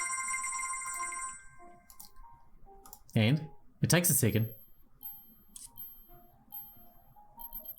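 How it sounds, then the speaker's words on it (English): A cellphone plays a pre-made melodic ringtone in the video game Broken Minds, a short tonal tune up close that gives way to clicks and a voice speaking over it. "There it is. The ringtone that killed your mother."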